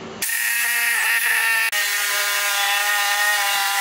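A reciprocating saw cuts wood for a table with a loud, steady buzzing drone that starts abruptly and briefly dips once before resuming, close and alone.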